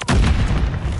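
Heavy gunfire from the game Call of Duty: Modern Warfare III, a loud booming burst that hits after a brief lead-in and rumbles on for the rest of the second with no speech.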